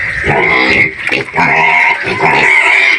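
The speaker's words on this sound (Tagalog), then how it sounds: "Yung baboy ng tsuhin ko." A pig on a farm in the fields grunts and squeals loudly at close range in several rough, nasal bursts, with possible voices mixed in.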